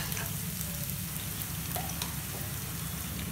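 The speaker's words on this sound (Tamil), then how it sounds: "இது கொஞ்சம் வதங்கட்டும்." Mixed vegetables for a kurma sauté in a pan, producing a dense, even crackling sizzle much like steady rain, close and unbroken, with no speech.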